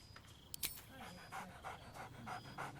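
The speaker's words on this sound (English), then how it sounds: "Scratch barks merrily in something like agreement" Scratch, the dog in Baldur's Gate 3, pants in rhythmic soft bursts with a faint whine, close and fairly quiet, with a brief clatter near the start.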